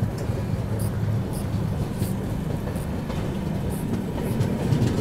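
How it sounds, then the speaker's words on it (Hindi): An Indian express train rumbles past alongside a moving train, a steady low roar with faint periodic clicks from the wheels on the rails, continuous and fairly close. "इसी ट्रेन ने हमें ओवरटेक किया था"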